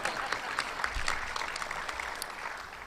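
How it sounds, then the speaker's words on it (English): Applause from the audience at the 2016 National Softball Hall of Fame induction ceremony, a steady fairly distant clatter of many hands that fills the clip without any voices over it. "you can clap because I'm going to in a second"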